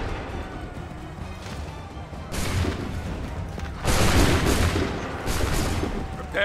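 Musket volleys fired on command in Assassin's Creed III crack out as a few dense rolling bursts over a steady battle din, each fading into the background noise.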